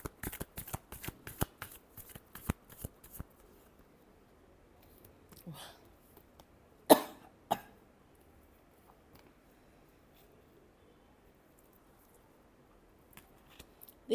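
Tarot cards are shuffled by hand in a rapid riffling flutter of crisp snaps up close. A few softer rustles and two sharp taps follow, then near silence.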